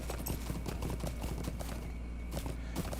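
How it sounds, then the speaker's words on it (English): Horse hooves clip-clop steadily along a path in a fantasy video game set in a hobbit neighborhood, a continuous, fairly close rhythm of hoofbeats with an occasional faint whinny amid ambient game sound. "So let's get on our horse here"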